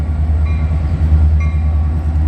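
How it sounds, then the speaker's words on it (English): A Metra commuter train rumbles steadily across a grade crossing near Union Station in Chicago, loud and close, with a deep continuous roar and faint high tones from the wheels. "Here's the Metro heading across at grade here."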